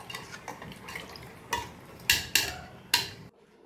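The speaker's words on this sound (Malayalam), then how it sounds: "നന്നായിട്ട് ഇളക്കി കൊടുക്കാം." Green gram being stirred in a metal pot for payasam, a spoon scraping and knocking against the sides in a loose series of sharp strokes, a few louder ones near the end before it stops.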